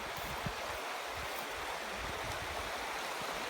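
A river stream splitting around an island in freezing minus-five-degree weather gives a loud, continuous rushing wash of flowing water that fills the whole stretch with steady, broad noise and no talk.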